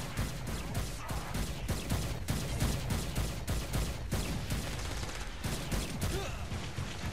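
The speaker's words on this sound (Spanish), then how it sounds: "Güey, estoy disparando por todos lados." Dense gunfire from the video game Saints Row: Gat Out Of Hell, rapid sharp shots and volleys packed together for the whole stretch, loud and close with no voices.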